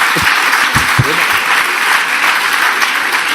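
Steady applause from an audience at a public talk on education, dense and continuous, with a few low voice-like sounds early on.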